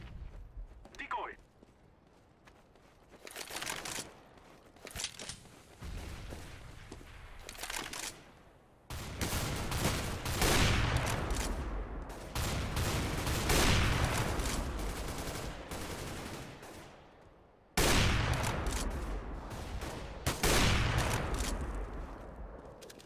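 A decoy grenade in Counter-Strike: Global Offensive mimics gunfire with bursts of shots, sounding as loud, dense volleys that stop and start across the round, mixed with other game noise and players talking over it.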